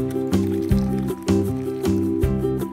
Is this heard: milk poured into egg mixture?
yes